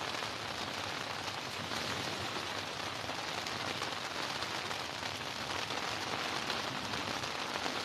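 Heavy storm rain pours steadily and loudly on a surface at a fishing spot, a dense unbroken hiss with no pauses and no voices.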